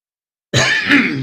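A single harsh throat-clearing cough bursts out abruptly after a moment of silence, close and loud.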